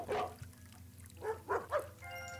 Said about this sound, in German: Oh ne, bellen die jetzt auch noch?